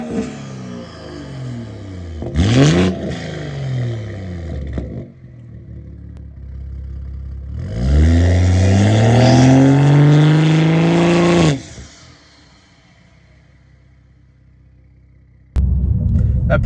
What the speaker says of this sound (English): this is how the upgraded ARM Motorsports turbo back exhaust sounds